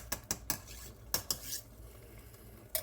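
Spoon clinks and scrapes against a pot as tomato paste from a small 6-ounce can is stirred into homemade chili, a few sharp clusters of stirring then quieter pauses, close up with no talking.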